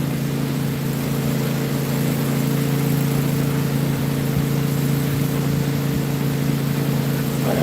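A single-cylinder lawnmower engine runs at full throttle, a loud, unbroken buzzing drone that holds a constant pitch close by for the whole stretch.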